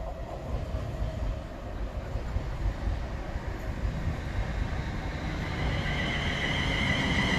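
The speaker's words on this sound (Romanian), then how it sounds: "acesta este ultimul tren" A train passes at Stechford near Birmingham, a broad continuous rushing rumble that swells slightly toward the end, heard alone without speech.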